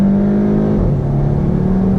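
A Volkswagen driven on a slippery track at night, its engine a loud, steady close drone with a constant hum that wavers slightly as revs shift, with no voices.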